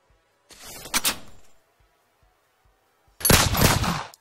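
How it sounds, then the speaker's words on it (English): Edited gunshot sound effects in a sound design project: two separate bursts of rapid, loud shots, a short volley followed after a pause of quiet by a heavier, denser burst. "the gun sounds are perfectly aligned"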